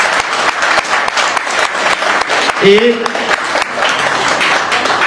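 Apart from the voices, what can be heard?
audience applauding a singer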